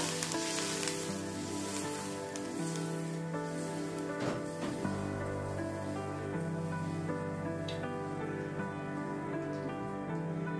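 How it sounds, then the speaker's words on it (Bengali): Half a cup of water hitting a hot kadai after pitha frying, a loud steady sizzle and crackle filling the whole stretch, close up, with a tonal hum running underneath and no speech. "কড়াইয়ে 1/2 কাপ জল দিয়ে দেবো বন্ধুরা"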